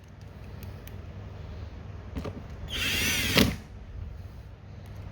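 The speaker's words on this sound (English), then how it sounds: "Put the screws back in." A Bauer cordless power drill drives screws back into place in a short, loud whirring burst of about a second, standing out clearly above low background noise with no talk.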